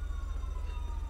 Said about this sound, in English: There are the police sirens.